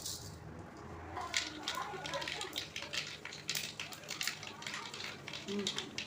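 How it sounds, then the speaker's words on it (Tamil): Mustard seeds crackle and pop in hot oil left over from frying dried fish, a faint, steady stream of small sputters under a low kitchen background. "இப்போ கடுகு பொறிஞ்சிட்டாங்க"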